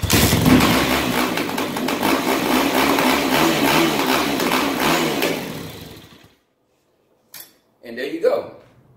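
A Yamaha YZ250F dirt bike runs with a busy, rattling engine note for several seconds, then cuts out, followed by a few brief knocks and a short burst of sound.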